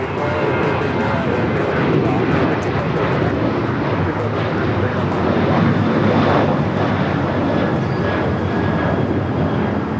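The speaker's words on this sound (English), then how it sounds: "This is American Airlines 3246 taking off to Phoenix on the 737-800." An American Airlines Boeing 737-800 jet taking off from LAX, a loud, steady broadband engine roar filling the whole stretch, with faint talk underneath.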